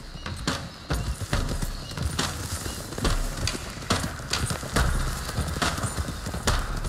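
Horses gallop in Red Dead Redemption 2, with steady overlapping hoofbeats in a close, driving clip-clop rhythm. The sound is loud and continuous, with a few sharper thuds and an occasional faint whinny.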